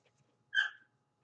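A puppy lets out a single short whimper, close by and fairly quiet, with faint room noise around it.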